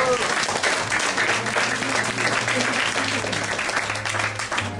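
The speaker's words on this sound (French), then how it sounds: "Je crois qu'on peut applaudir Jules bien fort." Sustained applause from a live audience at a children's magic show, steady dense clapping filling the whole stretch, with a faint low hum underneath.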